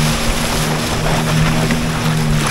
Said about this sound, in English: I think the boat has to work now to go against the current here.